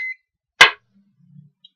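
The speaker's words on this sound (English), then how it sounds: "And there goes the beep of my clock." A clock gives a single short, sharp electronic beep, close and fairly loud, in an otherwise quiet room, with a faint high tone before it and small soft noises after.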